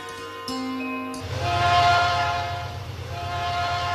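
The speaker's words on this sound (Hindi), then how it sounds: "ट्रेन आ गई।" Train pulling into a railway platform, a loud horn blast first, then the heavy rumble and rhythmic clatter of passing cars, close and continuous.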